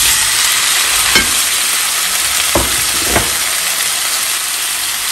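Boiled, salted potatoes frying in a splash of oil in a skillet, giving a loud, steady, close sizzle with a few brief knocks of a utensil against the pan.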